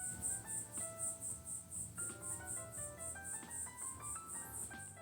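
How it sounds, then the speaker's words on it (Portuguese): A cricket chirps in rapid, steady pulses throughout a home podcast recording room, loud and close, with faint musical tones and room sound underneath and no one talking. "hoje eu tenho a participação especial desse grilo aqui, ó"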